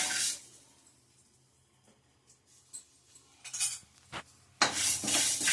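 Whole spices, cashews and dry coconut are stirred in a pan, giving quiet stretches broken by a few metallic scrapes and clinks, then a louder, rougher clatter of the spoon against the pan at the end.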